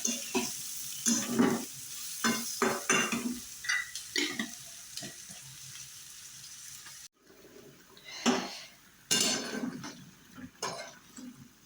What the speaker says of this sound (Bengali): জিরা ভেজে নিচ্ছি শাক দেওয়ার জন্য